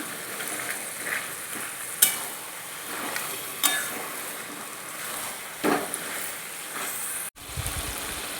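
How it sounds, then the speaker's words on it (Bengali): Fried hilsa fish is stirred into taro greens in a pan, with intermittent spoon scrapes and clinks over a soft, low sizzle, ending in a sudden short thump. "দেখুন মাছটা দিয়ে দিচ্ছি, আবারও একটু নাড়াচাড়া করব"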